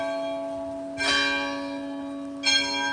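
Church bells ring out in two distinct strikes about a second and a half apart, each leaving a long, humming resonance that lingers between them, with no voices.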